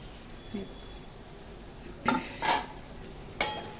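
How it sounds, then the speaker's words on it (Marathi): Finely chopped carrots tipped into a pan of sautéed onions, giving a few soft clattering scrapes and knocks of utensil against pan, spaced apart over a faint background hiss. "कांदा परतून झाला की आपण याच्यामध्ये गाजर घालणार आहोत चिरलेलं बारीक"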